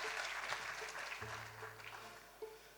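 An audience at a New Year's civic ceremony in Villejuif applauds a young conservatory guitarist, a faint, distant wash of clapping with a low steady hum beneath it.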